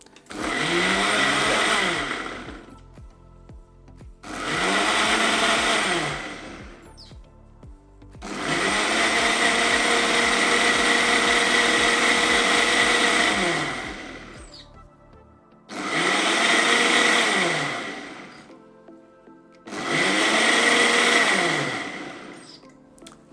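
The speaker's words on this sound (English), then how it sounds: "Turn our blender on." A blender runs in five loud bursts, blending turmeric, whirring up and spinning down between pulses, the middle burst held longest.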